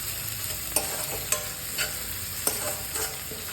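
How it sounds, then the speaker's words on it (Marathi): Green peas sautéed in a pan with a constant sizzle, as a spoon stirs and taps against the metal every half-second or so, fairly close and without voices. "आपण मटार याच्यासोबत परतून घेणार आहोत"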